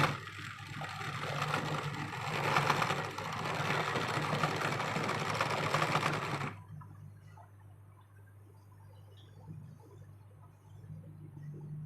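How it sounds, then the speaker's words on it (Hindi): A sewing machine stitches a blouse in a steady continuous whir for several seconds, then stops, leaving a low background hum; no one speaks over it. "ये देखिए इस तरीके से इसमें हम सिलाई लगा देंगे।"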